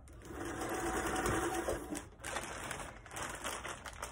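A sewing machine runs a straight stitch through seams of plastic waste on a shoulder of a poncho, making a close, steady whirr that dips and picks up again.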